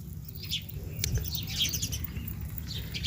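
Pigeons and other birds call faintly with scattered chirps and a brief flutter of wings over a low, steady background hum.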